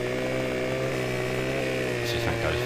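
A chainsaw in the Farming Simulator 15 video game runs steadily at a constant buzzing pitch, fairly quiet and continuous.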